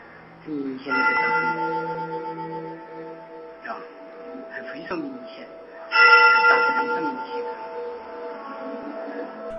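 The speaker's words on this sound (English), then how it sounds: "I also hear temple bells, so this could have taken place during a ceremony." Ringing metallic bell tones with long sustained harmonics, struck twice with a lingering decay, moderately loud over faint background murmur.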